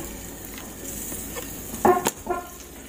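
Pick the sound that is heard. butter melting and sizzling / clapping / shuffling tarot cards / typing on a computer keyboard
butter melting and sizzling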